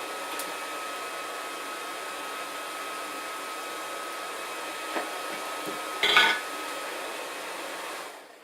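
A forge blower runs as a steady, faint whoosh throughout, with a brief louder knock near the end before it cuts off.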